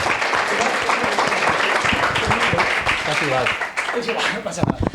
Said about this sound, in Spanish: Y un aplauso fuerte.